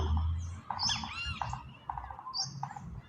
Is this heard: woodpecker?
yes